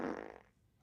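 A single fart sound effect, loud and broadband at first, then tapering quickly into quiet within a second.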